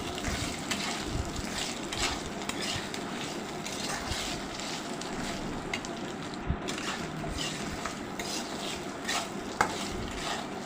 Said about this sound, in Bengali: এবার আমি আরও 2 মিনিট এই মশলা দিয়ে আলু পটলকে ভালোভাবে কষিয়ে নেব।